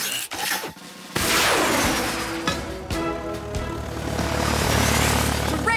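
A cartoon drone whirs into flight after a sharp start, a loud, steady propeller-like hum with swooshing sweeps and a few clicks, continuing without talk for several seconds.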